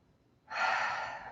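A single deep breath during a yoga breathing exercise: a soft, close, breathy rush that starts suddenly after a short quiet pause and holds steady to the end.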